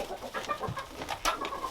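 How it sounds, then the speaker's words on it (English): Mean roosters cluck in a coop, a string of short, near calls and throaty clucks overlapping one another, with one sharper squawk near the end. "This is where we keep the mean roosters."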